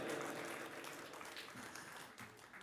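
An auditorium audience at a mushaira in Kolkata breaks into steady, fairly distant applause that continues evenly throughout.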